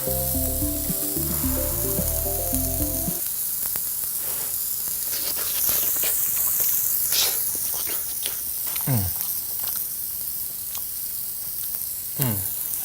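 Banana and eggs fry on a griddle with a steady hiss and crackle. Music plays at first, and light scraping taps and occasional voices come over the sizzle.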